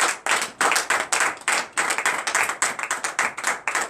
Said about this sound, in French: Veuillez vous lever et donner une acclamation à Seigneur